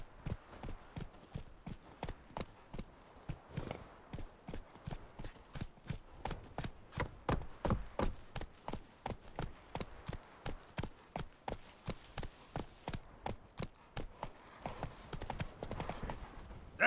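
Horse hooves clip-clop steadily in The Witcher 3, a brisk, even rhythm of close, distinct footfalls that runs the whole way through, with faint game ambience beneath.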